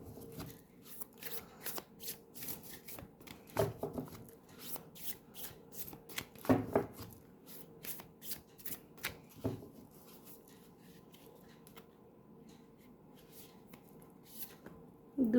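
Oracle cards being shuffled by hand, close and quiet, with irregular soft riffles, slaps and flicks of card stock continuing for the whole stretch.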